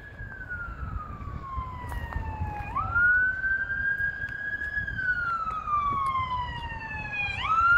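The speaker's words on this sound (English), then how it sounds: "You could still hear police, ambulances" Siren from an emergency vehicle heard at a moderate distance, its pitch sweeping slowly down and back up in a long wail over a low rumble of outdoor ambient noise, with no one talking.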